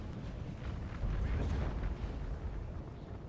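Artillery fire on a battlefield in Napoleon: Total War, low rumbling booms that swell and roll together in a dense, distant-sounding barrage.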